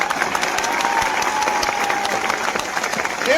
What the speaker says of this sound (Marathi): एकदा जोरदार टाळ्या होत्या आपल्या मायबापासाठी